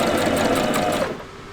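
A sewing machine stitches fabric in a short, continuous, loud mechanical whir that runs steadily and then eases off near the end, with no voice over it.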